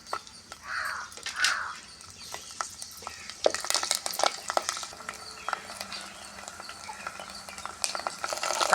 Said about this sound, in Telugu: ఇలాగే ఎల్లుల్లిపాయలు గుళ్ళు వేస్తున్నానండి నూనె కాగాక